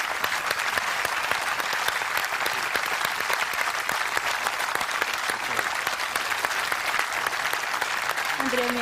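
A large concert audience at the Colosseum in Rome gives sustained, dense applause for the orchestra and choir, a steady roar of clapping without pause, with a voice briefly heard near the end.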